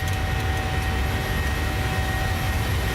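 A Boeing 737 climbs out after takeoff in Microsoft Flight Simulator 2020, its jet engines producing a steady, loud roar with a sustained whine and no talking.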